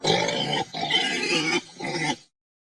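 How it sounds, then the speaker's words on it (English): A pig grunts and oinks in three harsh, rasping bursts close to the listener, then falls silent. "pig"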